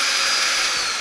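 An Oreck Venture Pro bagged canister vacuum runs steadily at close range, a loud continuous airy whoosh with no talking over it.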